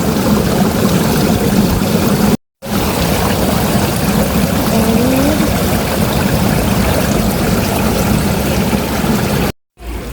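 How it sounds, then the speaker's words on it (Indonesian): Water from a small, low fountain flows and splashes continuously, a steady close rushing wash with brief dropouts. "di depan aku ada air mancurnya juga"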